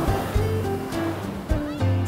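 Ocean waves breaking at the seaside on a windy coast, a steady loud wash of surf with rolling swells and no pause, close by, with no one talking over it.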